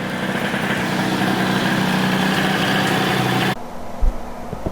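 Yamaha Aerox scooter with a newly fitted exhaust, its engine running loud and close with a steady buzzing note before cutting off abruptly, followed by a couple of faint knocks.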